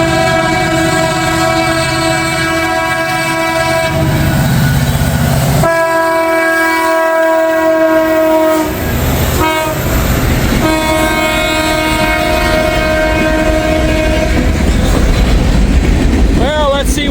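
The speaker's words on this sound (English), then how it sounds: "But here it comes. This is the fireman's side of the train, the conductor's side." A train rumbles past close by, its horn sounding in long blasts over the rolling clatter of the wheels, the locomotive's fireman's side passing.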